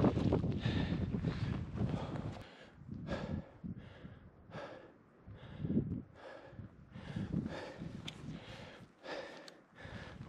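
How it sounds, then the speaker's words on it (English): Gusty wind on a mountain buffets the microphone in uneven rumbling bursts, loud and close, rising and falling with no speech. "Oh, it's windy up here."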